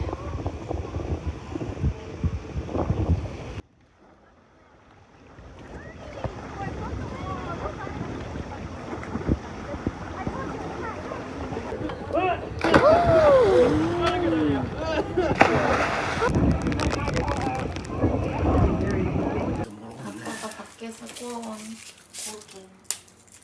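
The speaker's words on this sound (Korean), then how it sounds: "여기를 배 타고 와버렸어" A boat ride across open water near Guam, with wind buffeting the microphone and engine and water noise running throughout, a sudden drop to quiet near the start, a voice talking over the middle, and the wind sound changing near the end.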